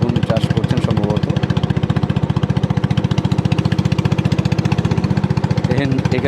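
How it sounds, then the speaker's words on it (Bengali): A long, slender engine-driven river boat on the Matamuhuri River at Manikpur ghat, Chakaria, with its motor chugging in a steady, fast, close-up rhythm throughout. "লম্বা করে সৌর আকৃতির ইঞ্জিন চালিত নৌকা বোটগুলো"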